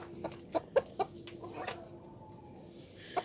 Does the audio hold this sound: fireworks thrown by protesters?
no